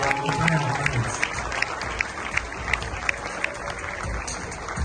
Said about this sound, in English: If you're not clapping there, check whether you are